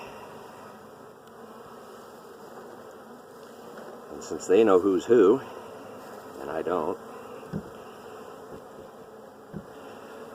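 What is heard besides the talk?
honey bees buzzing at the hive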